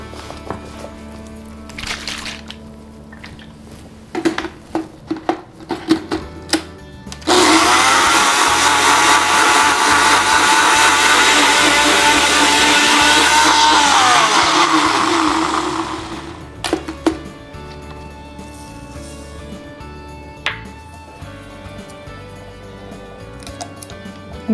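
A blender purees a shallot dressing for a Jersey tomato salad, running loud and steady for about nine seconds before winding down. Quieter kitchen clatter comes before and after it.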